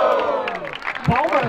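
Audience at a Brazilian freestyle rap battle clapping and cheering in a loud, dense burst, with whoops and shouting voices mixed throughout.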